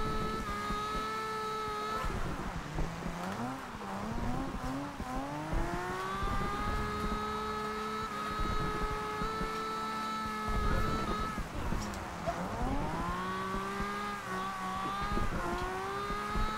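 A 1969 Nissan Fairlady Z in Forza Horizon 2 drifts through a corner, its engine wailing and rising and falling in pitch with steady tire squeal throughout, loud and continuous.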